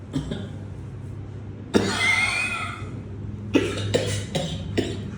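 A run of harsh, dry coughs: one long hacking burst, then several short barks close by, separated by a low steady hum.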